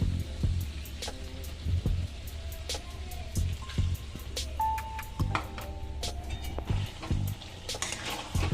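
Potatoes, cauliflower and spices sauté in a pan with a low sizzle, punctuated by repeated spoon scrapes and knocks at irregular intervals, fairly close and moderately quiet.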